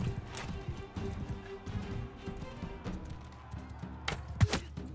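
Horse hooves clip-clop at a quick pace amid busy Mount & Blade game sound effects and a steady musical background, with a short sharp hit near the end.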